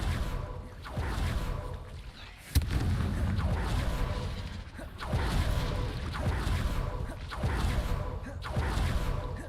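A fiery Confringo blast spell from the Hogwarts Legacy video game, with one sharp crack standing out amid repeated booming bursts and whooshes under a steady din of game effects.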